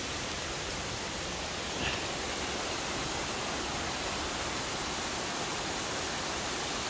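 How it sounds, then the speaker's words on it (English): A big waterfall a short way inland from a coastal beach roars as a steady, dense rush of falling water, loud and unbroken throughout with no voices over it. "to this incredible waterfall behind me"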